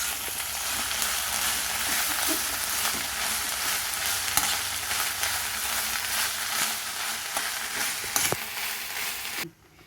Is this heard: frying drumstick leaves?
yes